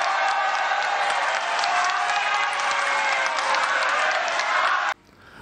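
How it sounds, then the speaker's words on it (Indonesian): Loud, sustained applause from a large crowd standing for the announced 2024 Indonesian presidential and vice-presidential candidate pair at a political declaration event, steady for about five seconds before cutting off abruptly. "Kita berdiri memberikan aplaus kepada mereka berdua."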